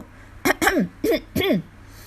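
A voice performer reading an audio novel acts out throat clearing, four short rough vocal bursts in quick succession, close and clear against a quiet background.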